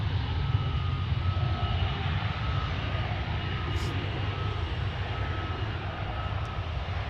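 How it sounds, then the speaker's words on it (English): An Airbus A300 cargo jet arriving at the UPS ramp at a Dallas–Fort Worth area airport, its engines producing a loud, continuous roar that holds steady throughout with no talking. "There we've got an A300. This one is just arriving at UPS Miniport from Columbia, South Carolina."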